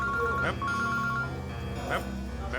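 Mobile phone ringtone in a crime drama scene, with a repeating electronic melody chiming in short bursts over a busy, music-filled background.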